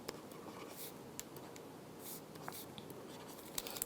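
Marker or chalk strokes on a board during a capacitor physics lecture, heard as soft scratchy bursts with brief squeaks, steady and fairly close against a low room hum.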